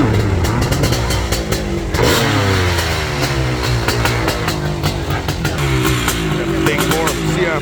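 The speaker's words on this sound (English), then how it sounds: "Nothing but big bore two-stroke action there" A 500cc big bore two-stroke motorcycle, likely a Honda CR, revs hard at an AMA National Hill Climb in Monson, Massachusetts, its crackling engine rising and falling loudly under an excited announcer's voice.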